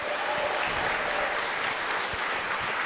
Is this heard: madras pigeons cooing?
no